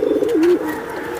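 A red Putla Gorra pigeon, a high-flying breed, gives a single clear, close coo lasting about a second, its low warbling note rising and falling before trailing off, with no talking over it.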